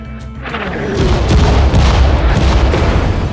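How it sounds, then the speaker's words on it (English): Howitzer artillery barrage in the Sudden Strike 4 battle at El Alamein in the desert, a loud sustained rumble of heavy booms and deep thuds that swells after a moment and rolls on continuously. "Howitzers are ready to shoot."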